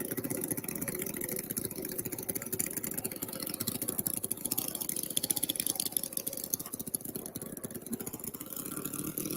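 A light aircraft's piston engine runs steadily up close on a calm, windless evening, a continuous, even drone with a rough, buzzy texture and no clear revving.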